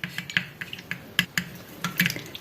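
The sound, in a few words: quickly stirring homemade cuticle cream with apricot oil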